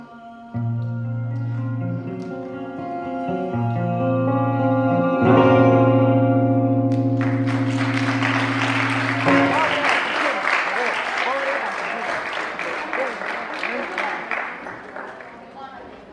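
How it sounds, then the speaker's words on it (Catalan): Applause from a school audience at a recitation event in a reverberant hall, rising in loudly after sustained musical notes end, a dense wash of clapping that holds for several seconds and then thins out. "gràcies per aplaudir"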